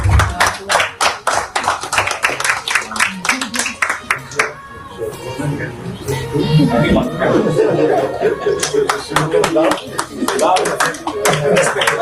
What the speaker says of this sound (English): we will give him a round of applause.